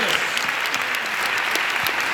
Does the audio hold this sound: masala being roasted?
no